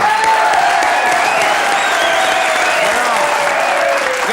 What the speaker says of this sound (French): On applaudit les 2 premières.